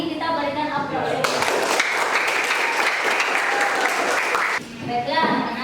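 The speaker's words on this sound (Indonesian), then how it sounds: "untuk semua kelompok hari ini kita berikan aplaus" A classroom of students gives a burst of applause for all the groups, loud, dense clapping that lasts a few seconds, with a teacher's voice speaking before and after it.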